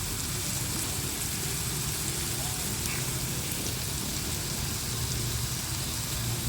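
Steady rain at a riverside campsite in Gabaldon, Nueva Ecija, a dense continuous hiss across the whole stretch with faint low rumble and occasional voices murmuring underneath.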